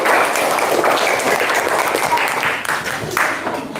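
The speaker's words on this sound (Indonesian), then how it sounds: "Oke, tepuk tangan buat semuanya." Loud, sustained clapping from a group of students in a classroom or lecture hall, dense and continuous with faint voices mixed in.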